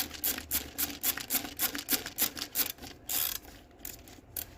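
A hand ratchet on the valve cover bolts of a 2001 Honda CR-V clicks in a quick series of close, rhythmic strokes, then slows into a few scattered clicks.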